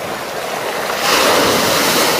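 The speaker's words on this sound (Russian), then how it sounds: "Может, даже еще сильнее волна поднимется." Stormy sea waves surge and crash along the shore at Lazarevskoye during an evening walk, a steady loud roar of surf that swells even louder halfway through, with no voices.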